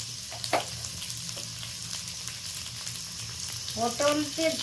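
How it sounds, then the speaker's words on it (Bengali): Pointed gourd frying with salt and turmeric in a pan, a continuous soft sizzle with occasional stirring scrapes and clinks, close by and moderately quiet, with brief faint voice-like tones near the end. "লবণ হলুদ দেব, দিয়ে লালচে করে একটু ভেজে নেব"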